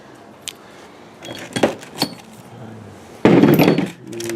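A wrench works on the bolts of a rear bumper being mounted, giving sharp metallic clinks and clanks at intervals, followed by a louder, longer burst of scraping metal.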